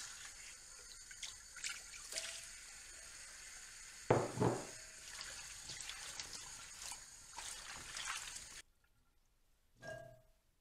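Water poured from a container over cut potatoes to rinse off the starch, a close splashing trickle with a louder burst midway, ending in silence followed by a brief final splash.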